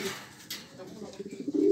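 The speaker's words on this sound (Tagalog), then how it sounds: "Gandang kalapati niyan, parehas." Soft, brief coo from classic racing homer pigeons, close and low, over faint background noise and a murmuring voice.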